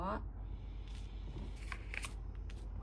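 Tarot cards shuffled and dealt during a reading, soft quiet papery flicks and brushes at close range, a few light slaps of cards laid down.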